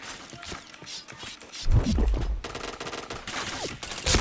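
Gunfire in a video game, rapid bursts of shots and clattering mechanical noises in a busy, uneven sequence, loud and close.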